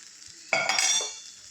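Okra stir-frying on a flat tawa: a short scrape of a spatula that sets off a brief bright sizzle, close and fairly loud, fading within a second, with no voices.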